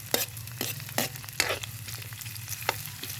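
Onions and garlic sizzle in a frying pan with a steady hiss, while a utensil scrapes and taps against the pan in irregular strokes, close and moderately loud, with no talk.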